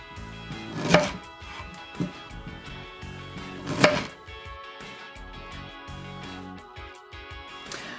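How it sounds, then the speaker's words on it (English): Knife cuts through a peeled, fibrous vegetable on a cutting board, giving a few sharp chopping knocks, two of them louder, among softer taps and board contact, close up with no talk. "So just cut it into slices."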